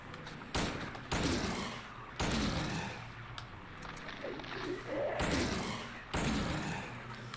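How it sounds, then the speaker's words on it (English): Gunshots in the video game Silent Hill 2 sound as several loud, booming blasts spaced a second or so apart, each trailing into a rumbling echo. "Using a lot of bullets here."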